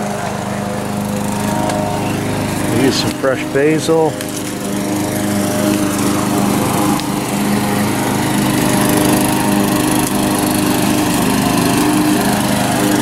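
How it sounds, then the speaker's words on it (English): A lawn mower engine drones steadily and fairly close throughout an outdoor Dutch oven cookout, its even hum continuing under people talking. "Mowing."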